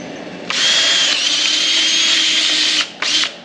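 Power drill with a sharp bit boring a hole during a Dana 80 axle install. A loud, steady high whine runs for over two seconds, then comes a short second burst.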